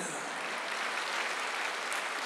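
A church congregation claps together during a Sunday worship service, a dense, even wash of applause holding steady for a couple of seconds.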